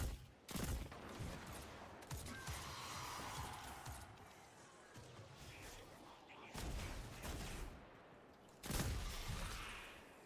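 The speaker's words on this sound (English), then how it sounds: "Stop shooting at me!" Gunfire in the shooter Destiny 2: Lightfall: a few sharp, distant shots ring out over a dense, steady rumble of battle noise, all at a low level.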